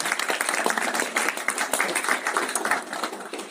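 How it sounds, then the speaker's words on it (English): Audience applause for a volunteer named Megan at a live real estate wealth-building event, a steady dense wash of clapping from many hands lasting throughout, fairly close and even in level with no talking. "Everyone give Megan a round of applause"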